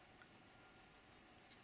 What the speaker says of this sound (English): It's a cricket.